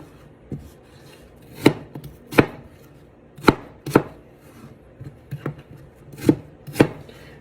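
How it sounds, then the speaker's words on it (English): Knife chopping apples on a cutting board for apple crisp, giving sharp, close, separate thuds at an uneven, unhurried pace with short gaps between cuts. "So go ahead and let's cut these apples."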